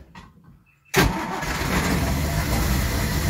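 A 1964 Triumph P2500 barn-find car engine cranks briefly, then catches abruptly and settles into a loud, steady, rough idle close to the microphone, with no talk.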